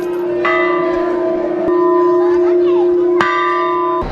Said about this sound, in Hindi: यहाँ पर एक घंटा है, वो बजाना पड़ता है